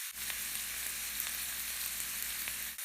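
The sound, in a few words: cabbage and carrot frying for fried rice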